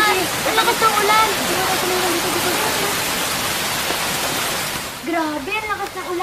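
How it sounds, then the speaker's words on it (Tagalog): Heavy rain pours down in a dense, constant roar, with voices speaking over it at the start and again near the end. "Grabe, ang lakas ng ulan."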